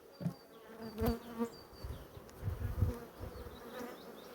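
Honey bees buzzing around brood frames in an open hive, a close, continuous droning hum with individual bees swelling louder as they pass near.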